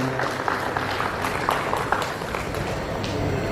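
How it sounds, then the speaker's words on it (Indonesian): An audience at an Indonesian talk on exporting betta fish with IBC tanks claps for the presenter, a busy, noisy patter of many hands that stays fairly even throughout without clear voices. "Tepuk tangan buat Om Atma Jaya"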